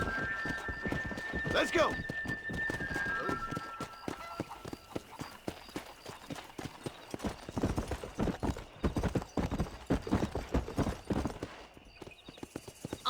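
A horse gallops in Red Dead Redemption, its hooves clip-clopping in a quick, steady beat alongside a whinny early on, with a voice calling out over the run.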